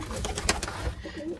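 Pigeons coo softly in a small coop setting, with a few quick clicks and scuffs of birds moving nearby, the cooing low and steady through the short stretch.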